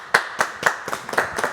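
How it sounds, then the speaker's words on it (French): An audience claps for a singer on a French show, a small group giving about six loose, uneven bursts of hand claps that sound close and fairly loud. "On va l'applaudir."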